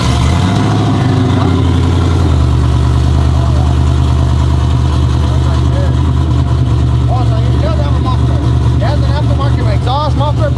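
An Intimidator SS clone idles steadily on its stock muffler exhaust, a loud, constant low rumble running the whole time with voices talking over it.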